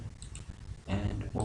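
A computer mouse clicks a few times, faint and sharp, during a JavaScript coding lecture in Sublime Editor and Chrome. Low muffled rumbling and soft talking take over partway through.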